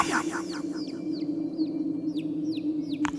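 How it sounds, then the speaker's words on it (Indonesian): A chicken clucks in a rapid series of short, repeated calls heard fairly close, over a constant low hum, during a mountain climb at night. "Ayam."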